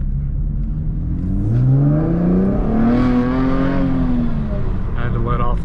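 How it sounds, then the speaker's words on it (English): A 2019 sixth-generation Chevrolet Camaro's modified exhaust drones loudly as it accelerates, the engine pitch climbing smoothly then easing off, heard from inside the moving car. "see how well this camera kind of picks up this exhaust"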